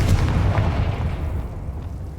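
A Confringo spell explosion in Hogwarts Legacy lands as a loud, deep boom that rumbles and slowly fades over about two seconds.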